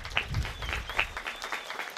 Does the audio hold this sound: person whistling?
no